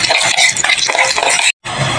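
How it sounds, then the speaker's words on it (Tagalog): Wild ginger hitting hot cooking oil in a pan, the start of a snail dish; a loud, close, dense sizzle with stirring scrapes that cuts out for a moment and resumes. "At ayan, magigisa naman na po tayo. Lagyan na natin ng mantika. Tapos isusunod na natin yung luya. Luyang ligaw."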